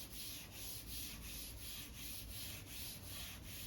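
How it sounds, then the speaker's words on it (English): Gloved hands wipe down a table in a hospital room, a faint, steady, rhythmic rubbing with repeated back-and-forth strokes and no talking. "clean the table for 30 seconds"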